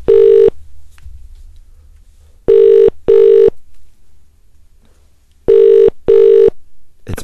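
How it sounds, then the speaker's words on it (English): A landline telephone rings in paired electronic trills, a single burst first and then two double rings, loud and close with quiet gaps between them. "We'll let you answer the phone when it rings."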